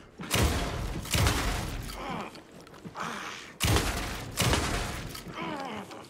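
Gunfire in the Alan Wake 2 video game, several loud, close shots in a ragged sequence, each a sharp crack followed by a brief ringing tail, with short gaps between bursts.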